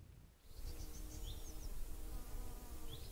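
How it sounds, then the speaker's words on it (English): Spring birdsong ambience in an AnyRPG Unity game scene: a steady insect-like buzzing bed sets in after a brief quieter start, with faint high chirps drifting over it at a moderate distance. "Right now that spring bird sound is playing"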